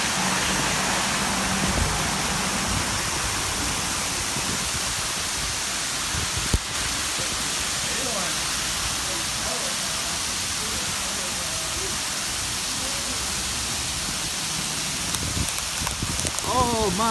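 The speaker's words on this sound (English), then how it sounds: "All right, we've got hail." Hail falls in Vacaville, California as a loud, steady broadband hiss and patter that continues throughout, with a few sharper knocks and faint voices.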